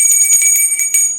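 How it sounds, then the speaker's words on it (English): A small hand bell shaken by a tarot reader during a reading, ringing in quick repeated bursts with bright, sustained metallic tones, close and fairly loud, fading at the end. "I'm going to take my little bell, because that's the way I do."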